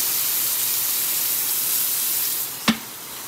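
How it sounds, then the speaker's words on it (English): Steady close sizzling hiss of trout on a hot barbecue grill, ending with a single sharp clack near the end. "On this side, you should hear all the sizzling."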